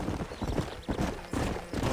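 Horse hooves clip-clop at a steady trotting rhythm in the Red Dead Redemption video game, close and fairly soft under a light ambient background.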